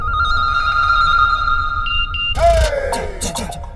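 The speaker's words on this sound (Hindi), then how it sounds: "ज़ारा का फोन" An electronic phone ringtone trills steadily and up close, then breaks off into a burst of louder, busier tones.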